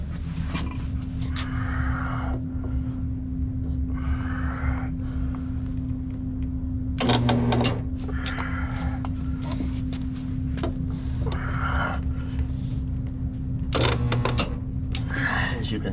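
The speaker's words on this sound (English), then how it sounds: "it welded the two pieces of metal together right in the middle where the seam was" A spot welder joins metal pieces of a fireplace door, firing in a few short buzzing bursts with a steady electrical hum between them, while a person talks throughout.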